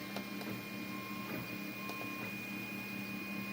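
A 3D printer prints a nut for a new filament holder, giving a steady mechanical hum with faint rhythmic stepper whines and occasional soft clicks, close and continuous, with no talking.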